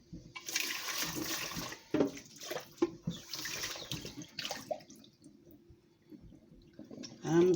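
Homemade watermelon, kiwi and apple juice poured from a blender into a jug, a gushing, sloshing liquid stream in uneven surges with brief pauses, ending in a louder splash.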